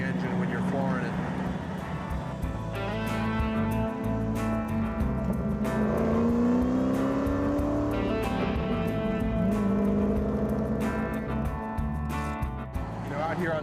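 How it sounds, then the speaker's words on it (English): A Ford Mustang at full throttle on an open road: the engine whine climbs and shifts in pitch as it revs hard, with a steady rush of air and road noise underneath throughout. "that whine that you get out of the engine when you're flooring it"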